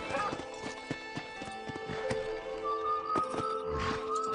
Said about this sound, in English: Estacionamos el caballo aquí